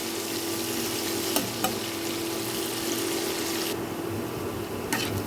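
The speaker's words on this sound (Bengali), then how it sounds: "পেঁয়াজটাকে এখন আমি একটু হালকা ভেজে নেব খুব বেশি লাল করে ভাজবো না" Onion frying lightly in a pan for a rohu fish-head muri ghonto, a steady soft sizzle running throughout with a couple of brief stirring clicks, close and moderately quiet, no voices.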